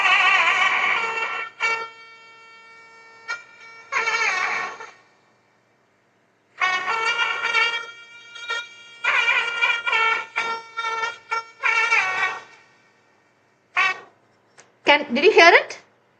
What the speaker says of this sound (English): It has 7 holes and it is an air blown instrument, and it sounds something like this.